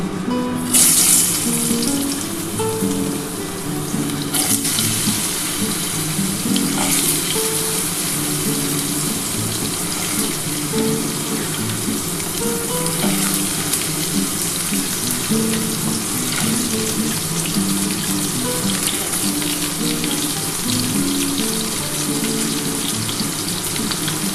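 Potato pieces dropped into hot oil for a Bengali ridge gourd and potato posto dish, a loud, steady close-up sizzle and crackle that starts with a sharp burst and continues without talk.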